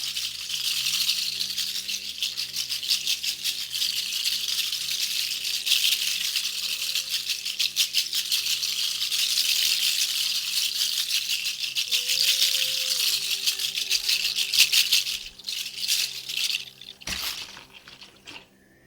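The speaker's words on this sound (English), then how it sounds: "I'm going to make a rattle sound" A rattle shaken steadily in a continuous dense hiss of beads for about fifteen seconds, then slowing to a few scattered shakes before stopping.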